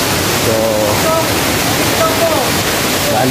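Waterfall near Maapon, a steady, loud rush of falling water filling the whole clip, with a voice talking briefly over it.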